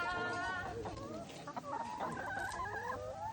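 Chickens cluck and murmur in a backyard garden with a roost at the back, a busy layered run of soft clucks and short calls close by with no talk.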